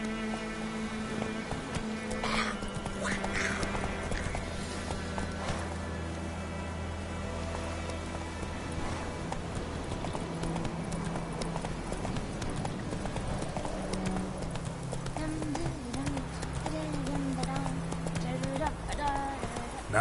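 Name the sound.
horse galloping, Roach in The Witcher 3 video game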